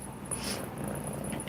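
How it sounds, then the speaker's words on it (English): A male cat purrs softly and steadily while being petted, a faint continuous rumble heard close up with no talk over it. "You're purring like a kitten."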